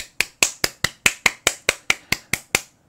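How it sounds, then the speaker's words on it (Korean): A steady run of twelve sharp, crisp hand claps picked up by an EPOS B20 microphone set to bidirectional, close and clear, evenly paced. "양방향으로 세팅하면 박수 소리를 이런 식으로 수음합니다."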